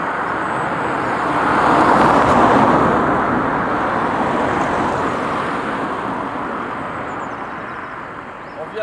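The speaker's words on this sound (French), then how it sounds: "On vient de voir passer un camion de la gendarmerie" A gendarmerie truck passes on a country road near a crossroads, a broad rumble of engine and tyres that swells to a peak and then fades slowly as it moves away.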